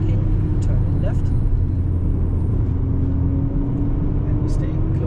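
A Golf 7.5 GTI accelerates downhill on the Nürburgring Nordschleife, its engine and road noise a loud, constant in-cabin drone with tire rumble, as someone narrates the driving line over it.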